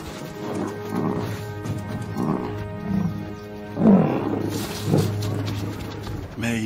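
Lions in South Africa roar and growl as they attack a buffalo calf, with deep rumbling calls repeating at close range in waves over several seconds.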